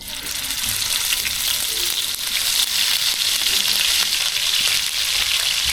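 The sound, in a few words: onion paste added to pan, frying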